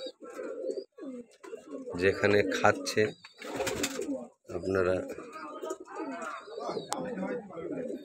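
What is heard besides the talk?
birds feeding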